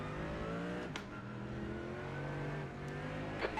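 A race car at Lime Rock with its engine droning loud and close, harmonics rising and falling steadily with a brief flutter near the end, no voices.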